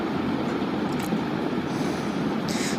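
A passenger train runs on rails through hilly, forested country, heard as a continuous low rumble and rattle from inside the carriage, with a brief faint hiss near the end. No talk is heard.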